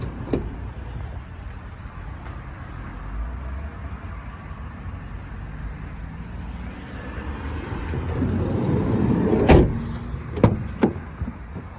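Rear barn doors of a 2017 Renault Trafic van swing open after a stretch of quiet outdoor background, ending in a few sharp, loud metallic clunks and latch knocks close by.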